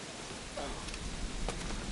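Steady rain falls over dark night-time rooftops in the video game Assassin's Creed IV Black Flag, a constant broadband hiss with faint patter running unbroken throughout.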